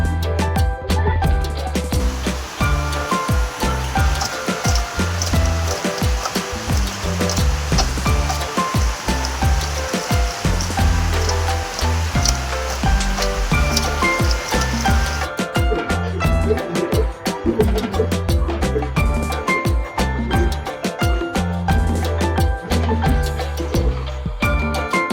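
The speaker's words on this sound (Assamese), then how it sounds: "চাওক বৰষুণ এতিয়াও এৰিয়ে থকা নাই" Steady rain keeps falling outside a home where rainwater has pooled, a dense, unbroken hiss and patter that stays loud and even for the whole stretch, with no speech.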